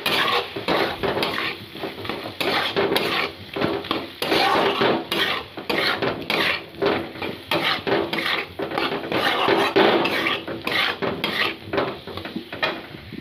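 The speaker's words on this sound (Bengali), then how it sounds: "তো দেন মশলার মধ্যে ভালো করে আমি এটা মিশিয়ে নেব।" Egg curry being stirred into spice masala in a pan with potato and tomato, a utensil scraping and clattering against the metal continuously and fairly close, with no talk.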